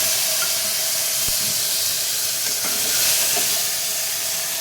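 Tomatoes hitting a hot frying pan where ginger has been frying, giving a loud, steady sizzle and hiss close up. A couple of faint stirring clicks sound through it, and no one speaks.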